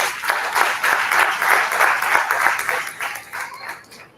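Applause from a tech conference audience in Hyderabad for a panel of speakers, a steady broadband clatter of many hands held for several seconds before tapering off near the end.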